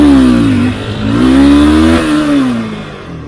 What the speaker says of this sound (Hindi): Just see the tremendous power of this bike.